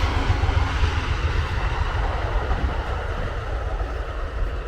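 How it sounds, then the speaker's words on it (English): Short Amtrak passenger train passing near the ruins of an old iron works in Joliet, a steady broad rumble and roar of moderate loudness that holds throughout with no talking. "here comes Amtrak"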